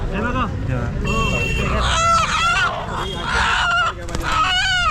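Country-breed roosters and hens at the Chakan village poultry market crow repeatedly in overlapping calls, with clucking and a busy background of market noise.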